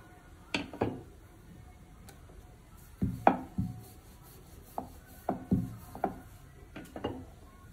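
A rolling pin rolls out bhature dough for chole bhature, with soft irregular knocks and rubbing strokes against the board, close and fairly quiet, spaced a second or so apart.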